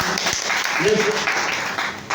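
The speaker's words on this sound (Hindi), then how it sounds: "एक बार जोरदार तालियां होनी चाहिए।" A crowd claps steadily in a dense wash of applause, with a voice briefly audible through it.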